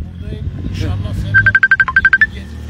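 A mobile phone ringtone plays during a street interview in Zincirlikuyu town, a rapid series of about a dozen bright electronic beeps in a quick regular pattern, fairly loud, with street noise and voices around it.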